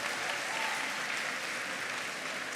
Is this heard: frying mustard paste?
no